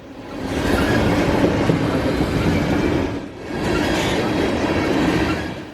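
Freight unit train rolling past on nearby track, a loud continuous rumble of wheels and cars with a brief dip midway before the roar resumes.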